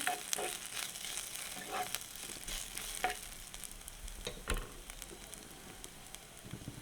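Cumin seeds fry in hot oil for a Jaffna-style radish curry, a soft steady sizzle and crackle broken by occasional stirring scrapes, fairly quiet with no talk.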